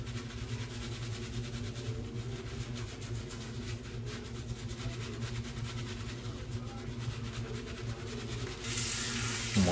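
Tap water runs steadily into a sink for wetting the face before a shave, a soft continuous splash close by, ending with a brief louder rush.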